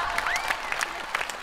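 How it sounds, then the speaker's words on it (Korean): An audience at a Korean TV show claps in a brief burst of applause, with quick dense hand claps and some voices mixed in. "박수 한번 주세요!"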